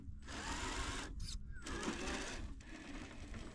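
The brushed motor of an SCX10 III Gladiator RC crawler gives a steady whining hum with brief dropouts and surges as the throttle changes, fairly faint and close.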